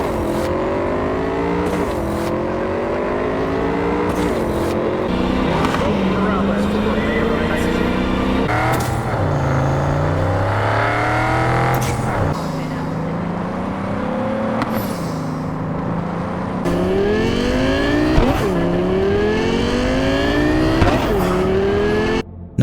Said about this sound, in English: Even the car sounds excel in sounding both futuristic but retaining some modern day growl.